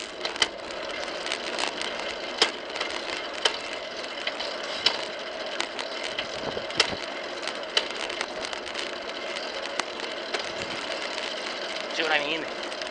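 A mid-1960s car engine clatters on a quiet street while the driver shifts through first, second and third gears, a steady close mechanical rattle with sharp ticks and knocks throughout.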